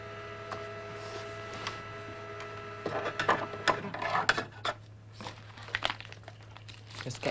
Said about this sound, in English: I'll just put some paper into the printer.